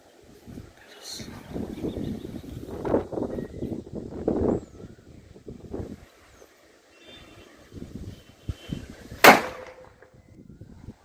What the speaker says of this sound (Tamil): சரியான சவுண்ட் வந்து வெடிச்சிச்சு.